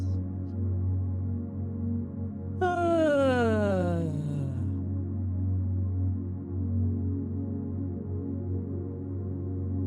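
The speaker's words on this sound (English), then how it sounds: "on the exhale, we're going to yawn it out like this" A single long, drawn-out yawn sliding downward in pitch as the breath goes out, with a steady low hum underneath.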